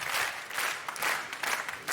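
A studio audience on a French TV variety set breaks into sustained applause, a dense wash of clapping that swells and eases in waves for two seconds with no voices over it.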